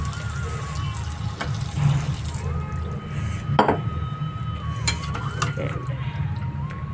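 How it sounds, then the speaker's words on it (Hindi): Water pours and splashes steadily into a pot of vegetables, with occasional clinks and a low hum underneath, no talking. "अब मैं इसमें पानी डाल देती हूँ और थोड़ा देर उबलने देती हूँ"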